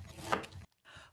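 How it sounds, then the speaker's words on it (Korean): A Rosemond wave-blade kitchen knife saws through frozen meat in a steady rough scraping stroke that peaks midway, pauses briefly, then resumes more softly, close and alone. "꽁꽁한 냉동 고기도 가볍게 쓱쓱"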